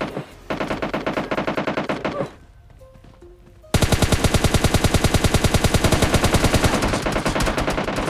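Rapid automatic gunfire from an M4 and a DP in PUBG Mobile Lite, loud close bursts of dense shots, a brief pause with a lull, then a long sustained stream of fire.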